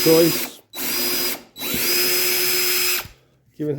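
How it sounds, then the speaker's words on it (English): A power drill whirs in three close bursts while drilling a pilot hole in wood, spinning up and winding down with short pauses between them, the last run the longest. "Always nice to drill a tapping hole first."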